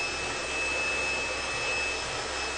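A hot blow dryer runs steadily on high heat while styling curly hair, giving a loud, continuous whooshing roar with a thin high whine, close and unbroken throughout.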